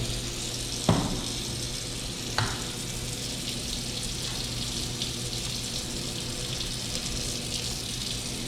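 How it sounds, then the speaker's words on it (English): Condo sink faucet running steadily, a constant hiss of flowing water with a couple of brief knocks near the start and no voices. "We'll check the water temperature of the sink."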